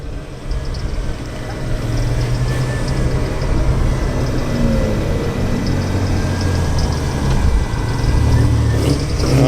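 A classic rally car fitted with four Cibié lamps runs at a steady, loud idle and rev, its deep engine rumble continuous and close throughout at an outdoor car meet at the British Ironwork Centre.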